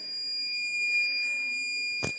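A homemade low-cost 12V DC to 230V AC solar inverter gives a single short, sharp warning beep near the end, after a steady high electronic whine.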